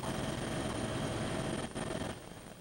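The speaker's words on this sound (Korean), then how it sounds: "취재 헬기들이 지금 위에서 촬영 중인 모습도 목격할 수가 있습니다" News helicopters flying overhead during a motorcade escorting a presidential bus on an expressway, a steady loud rotor and engine drone that dips briefly, with no voices.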